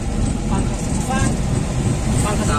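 An angkot minibus rumbles along on a ride in Ende, its engine and road noise steady and close from inside the cabin, with voices talking over it.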